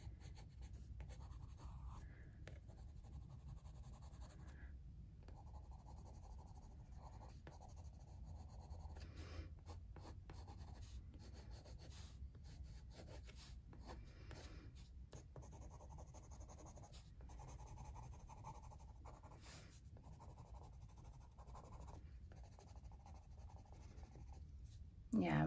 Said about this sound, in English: You can add some more value, right, by scrubbing gently the black, creating some nice shadows